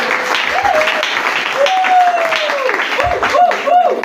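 Church congregation applauding at a Sunday service, a dense wash of clapping and voices throughout with a person speaking over it.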